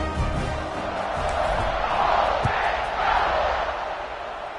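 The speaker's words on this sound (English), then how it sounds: "this crowd is buzzing after that last score" Stadium crowd in the NCAA Football 26 video game roars with a steady broad swelling buzz after a score, loud and continuous throughout.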